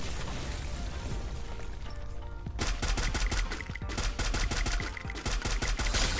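Rapid bursts of automatic gunfire in the battle-royale shooter Free Fire, close and loud, with a brief lull before sharp repeated volleys crack through to the end over a steady noisy background.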